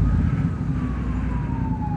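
An ambulance siren wails steadily through traffic, heard over a constant loud engine and road rumble from a Triumph Bonneville T120 motorcycle, its pitch sliding slowly downward as it passes.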